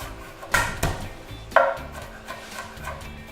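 Turmeric root being chopped with a knife on a board, a few sharp cutting knocks spaced irregularly, close and fairly loud with no talking.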